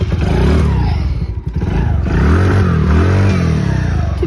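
A small engine in cold weather, running on the choke, revs up and down steadily and close by with a rough, clattery tone, holding a slightly raised idle between the surges.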